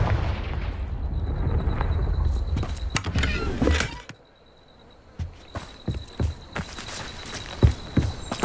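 Confringo fire spell blasts cast at a poacher camp in Hogwarts Legacy: a loud sustained blast, then a pause and several sharp, separate bangs and crackles, some close and some trailing off.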